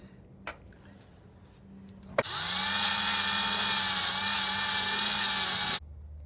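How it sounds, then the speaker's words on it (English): Power tool, such as a drill with a wire brush, scrubbing surface rust off metal clips on a 1959 Willys Jeep Station Wagon, a steady high whine for about three and a half seconds, close, after brief handling clicks. "I'm gonna remove some of the surface rust off the metal clips"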